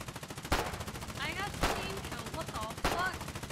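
Machine gun fire in the war game Foxhole comes as three sharp, loud bursts about a second apart, with fainter rattling shots, whistling tones and a low background rumble between them.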